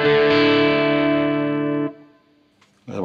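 An electric guitar on its bridge pickup, played through a DryBell The Engine pedal with the gain turned down, rings out as one loud, sustained, slightly driven chord for nearly two seconds, then is cut off, with a short burst at the end.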